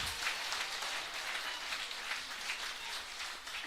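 Congregation clapping at a church service, a dense steady wash of many hands applauding together throughout, with no voices standing out.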